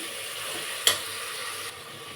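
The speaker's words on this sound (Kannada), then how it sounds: "ಟೊಮೆಟೊ ಹಾಕೋತಾ ಇದ್ದೀನಿ ಟೊಮೆಟೊ ಸ್ವಲ್ಪ ಸಾಫ್ಟ್ ಆಗೋವರೆಗೂ ಫ್ರೈ ಮಾಡ್ಕೊಳ್ಳಿ" Tomatoes softening in a hot pan for brinjal bath make a soft, even sizzle, with one brief sharp click near the start, then the hiss continues quietly.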